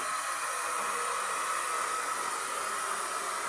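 A hair dryer blows steadily to dry photo emulsion on a printing screen, a loud, continuous close-up whoosh of air with no change and no talk.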